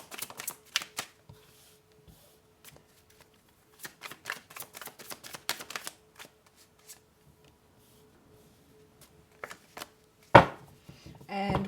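Tarot cards are shuffled and riffled in quick, soft, papery clusters, close and fairly quiet, with pauses between runs and a brief louder handling noise near the end.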